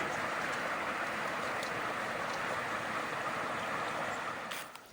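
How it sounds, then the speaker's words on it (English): A small creek flows through a gully in the Grose Valley, a steady broadband rush of water running continuously and fairly close, with no voices. "Okay, so I just crossed this gully. It's a little creek."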